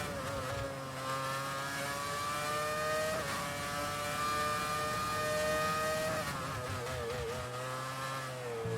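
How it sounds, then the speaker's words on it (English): A classic V8 Formula 1 car in the F1 2019 racing game screams loud and close, its engine pitch climbing steadily through the gears with a brief dip at a shift before it winds up again. "Let's get some good and old V8."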